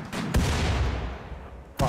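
Gunfire in the video game Rimworld, with two sharp shots about 1.5 seconds apart and a low rumbling din of battle continuing between them.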